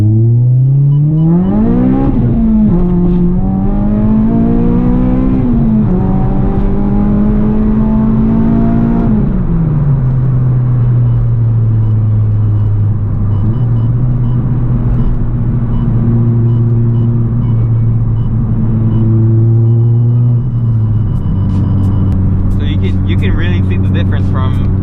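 A tuned K24-engined 8th-generation Honda Civic Si pulls hard in third gear from about 30 mph, the engine note climbing steadily in pitch, loud and close from inside the cabin, with a brief dip and then a renewed climb near the end.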